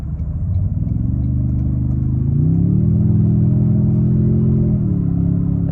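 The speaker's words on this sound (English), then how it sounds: "This V6 sounds really good." A 2024 Toyota Tundra TRD Pro V6 engine and exhaust drone steadily from the cabin while driving, a loud low tonal hum whose pitch climbs once and then settles, continuous with no talking.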